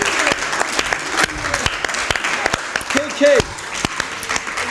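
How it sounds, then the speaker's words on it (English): An audience at a university law school moot court event applauds, with rapid, uneven clapping throughout and a person speaking briefly over it. "Please clap hands for him."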